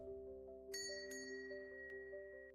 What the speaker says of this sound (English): The bell hanging on the door rings as I push it open.